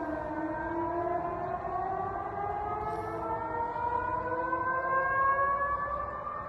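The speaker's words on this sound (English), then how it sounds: "letting us hear the sound of air raid sirens over the city of Orenburg" Air raid sirens wail steadily across the city of Orenburg, Russia, several overlapping tones slowly rising and falling together, loud and sustained with no voices.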